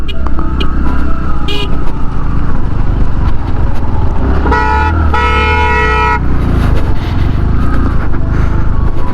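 On a rough mountain road near Gurudongmar Lake in North Sikkim, a car's engine drones loudly and steadily at close range, with a horn honking a few times midway.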